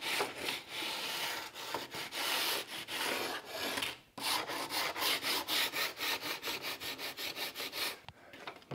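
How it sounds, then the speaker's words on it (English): Block sander with 40 grit paper cutting fiberglass on a door fitted to a 1934 Ford Coupe, long close gritty scraping strokes settling into a fast steady back-and-forth rhythm. "This block sander, that 40 grit cuts that fiberglass pretty quick."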